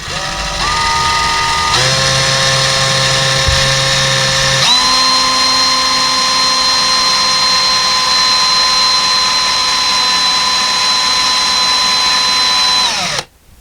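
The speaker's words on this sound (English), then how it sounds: "we're going to drill the second hole down the bottom right here" A power drill bores a hole into a wall to mount a curtain rod bracket, giving a loud, continuous motor whine whose pitch steps up as it speeds, holding steady for about nine seconds before cutting off abruptly.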